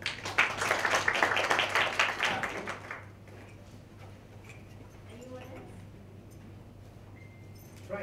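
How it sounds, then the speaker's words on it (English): An audience at a workshop on inclusive community-based disaster risk management breaks into lively clapping for about three seconds, then it dies down to a hushed room with faint scattered sounds. "Big applause, please."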